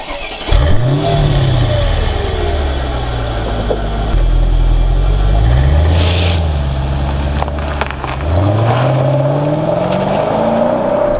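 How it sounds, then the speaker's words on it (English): A 2003 Mercedes-Benz SL500 engine revs up loudly three times in succession, each pull climbing and falling back, close and dominant with no talk. "A beautiful Mercedes SL500. Let's see what it's like."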